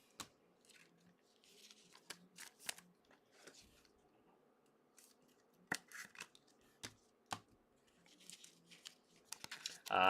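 Panini Phoenix football card packs are torn open, with faint, sporadic crinkling, ripping and foil rustling up close in a quiet room, ending in a louder tear.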